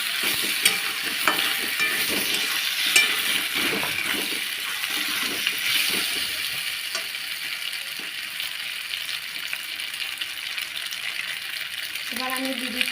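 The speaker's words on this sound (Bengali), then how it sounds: "টমেটো সসটা দিয়ে আবার হালকাভাবে নেড়ে নিচ্ছি।" Frying food in a pan being lightly stirred after tomato sauce goes in, a steady sizzle with scattered scrapes and taps of the spoon, easing slightly toward the end.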